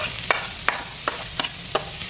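Peppers and onions sizzle steadily in an oiled pot for Cajun shrimp and grits, with five sharp scraping stirs at regular intervals over the constant frying hiss; no talking.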